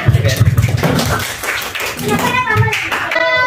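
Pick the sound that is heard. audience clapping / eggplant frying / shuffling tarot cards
audience clapping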